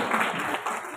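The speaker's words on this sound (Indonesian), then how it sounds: "Tepuk tangan untuk saya." An audience applauds at a doctoral open examination, a brief burst of dense, steady clapping from many hands in a hall.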